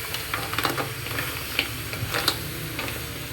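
Mussels and onions sauté in a pan with a constant crackling sizzle and light, irregular ticks of stirring, close and evenly loud throughout.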